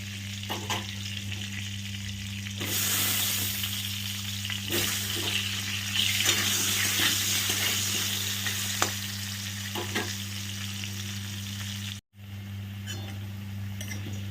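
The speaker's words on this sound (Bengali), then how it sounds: "এবার এটাকে তুলে নিয়ে আলুগুলোকেও ভেজে নেব।" Potato pieces frying in hot oil for a snakehead fish dish, a loud, continuous close sizzle with occasional light clicks of stirring and a brief break near the end.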